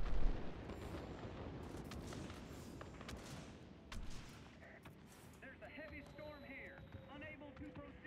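Anti-aircraft guns fire in Warplanes, a dense run of sharp, cracking bursts over a steady roar of aircraft noise, with some tonal whines later on.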